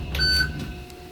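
A single short electronic beep sounds inside a Dover hydraulic elevator cab at a Macy's store, clear and close, with a faint ringing tail.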